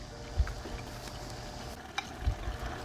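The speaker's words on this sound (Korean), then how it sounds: "양파하고 고추 넣고 한 번 더 볶아줍니다" Sweet potato stems stir-fried in a pan with onion and chili, a soft steady sizzle broken by a few scraping stirs and light knocks of the spatula against the pan, close and alone.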